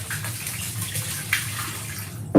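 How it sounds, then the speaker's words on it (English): Alcohol, moonshine, poured up close into a container, a steady splashing stream running throughout and ending in a louder knock or clunk. "Listen, Bill, I'm pouring alcohol and I'm drinking alcohol."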